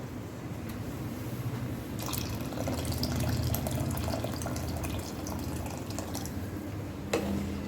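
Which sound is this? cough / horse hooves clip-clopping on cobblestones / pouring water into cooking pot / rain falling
pouring water into cooking pot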